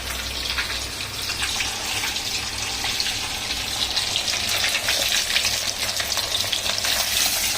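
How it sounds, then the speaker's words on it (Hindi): Fish fries in hot oil over a high flame, giving a loud, steady sizzle with crackling spatter throughout. "इसे मैं हाई फ्लेम पर फ्राई करूंगी"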